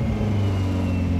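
A Chevrolet Corsa Active race car engine runs at steady revs out in a city street, a loud, continuous mid-low drone with a faint rising whine above it.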